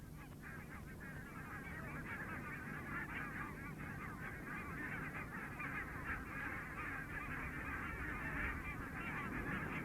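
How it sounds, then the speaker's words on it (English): A large flock of barnacle geese feeding on spring vegetation in the Arctic honks continuously, many overlapping calls forming a dense, steady chorus at moderate distance. "Barnacle geese come in their thousands to feed on the recently exposed vegetation."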